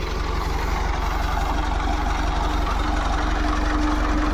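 The engine of a coconut frond shredder in a farm field runs steadily at close range, a loud constant chugging idle with a regular low knock and no voices over it.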